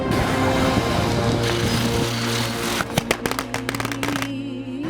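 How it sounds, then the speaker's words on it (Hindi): Firecrackers bursting during village Diwali celebrations, a dense steady roar of noise giving way to a string of sharp cracks and pops near the end, loud and busy with no clear speech. "पटाखे फूट रहे थे।"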